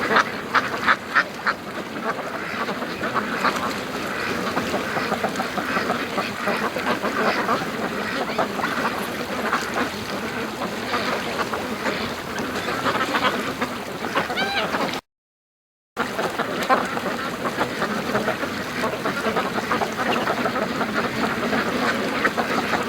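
A Muscovy duck calls near a creek outdoors, its sounds mixed into steady background noise with speech throughout, interrupted by a brief gap partway through.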